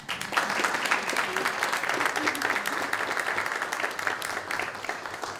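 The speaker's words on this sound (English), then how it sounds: "So let's give them a round of applause" A council meeting audience applauds city library employees, a dense, sustained round of clapping from many people in a large room, with some voices mixed in under it.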